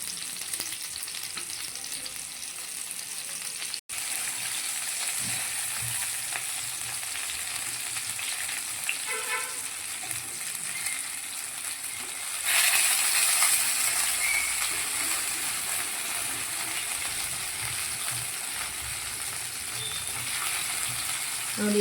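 Fish, a Mangalore-style rani meenu fry, sizzles in a pan with a steady, moderate hiss that grows louder halfway through, with an occasional faint clink.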